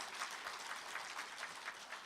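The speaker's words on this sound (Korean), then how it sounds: "여러분 다시 한번 큰 박수 부탁드리겠습니다" Steady applause from a crowd at a political party leader's inauguration speech, faint and distant with a continuous dense patter of clapping and no voices over it.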